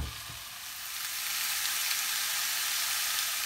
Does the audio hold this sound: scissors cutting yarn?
no